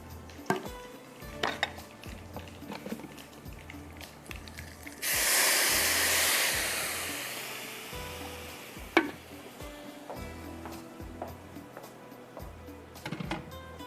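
Cumin, nigella seeds and dried fenugreek leaves hit hot oil in a karahi with a sudden loud, bright sizzle burst that fades over a couple of seconds, amid scattered spoon clinks and stirring.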